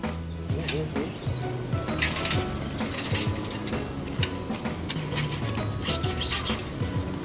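A bicycle being parked in a crowded bicycle parking rack in Japan gives a busy clatter of ratcheting and clicking metal parts, with bursts of rattling and faint voices in the background.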